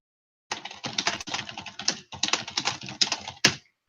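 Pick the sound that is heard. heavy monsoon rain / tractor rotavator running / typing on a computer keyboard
typing on a computer keyboard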